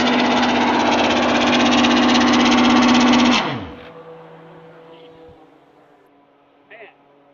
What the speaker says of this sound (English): we're going to be able to give it some revs.